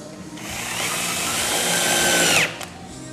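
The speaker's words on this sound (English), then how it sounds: "screw it on there" A power drill drives a screw into a template, whirring loudly and close for about two seconds before winding down with a falling pitch and a brief final blip.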